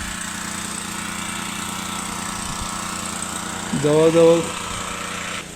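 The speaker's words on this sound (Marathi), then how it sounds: "पाईपलाईन केल्याच्या नंतर पंप चालू केलेला आणि पाणी सरळ शेतामध्ये सोडून दिलेलं" Farm water pump engine running in a field, a constant mechanical drone throughout, with a person speaking briefly over it near the end.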